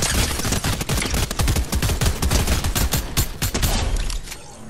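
Gunfire in the video game Fortnite: dense, overlapping volleys of sharp shots crackle almost nonstop for several seconds, loud and close, then thin out at the end.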